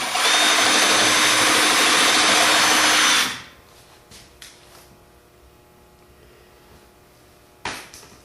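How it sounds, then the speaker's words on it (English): A loud power drill with a 3/8-inch bit whines steadily for about three seconds through a 1x2 rectangular steel tube, then stops abruptly, followed by quiet with a few light metallic knocks. "take a 3/8 inch drill bit, drill through the 1x2 rectangular tube, both sides of the tube"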